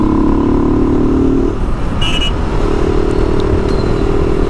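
A motorbike rides along a road in Asansol, its tyres freshly inflated after three punctures were fixed. The engine drones steadily and loudly with road rumble and wind, and its pitch shifts briefly partway through.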